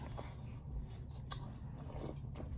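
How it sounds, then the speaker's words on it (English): Someone eats Cap'n Crunch cereal close to the mic, with steady crunchy chewing over a low background hum and a few sharper bites standing out. "I'm gonna finish my Captain Crunch"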